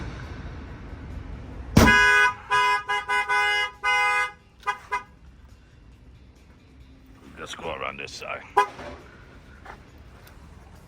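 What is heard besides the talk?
Snap-on tool truck alarm sounding during test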